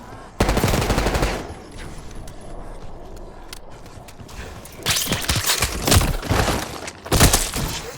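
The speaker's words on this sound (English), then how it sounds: "You hearing gunfire?" Rapid bursts of automatic gunfire from Call of Duty: Black Ops 6 on PS4, loud and close, alternate with quieter stretches holding scattered shots and clinks.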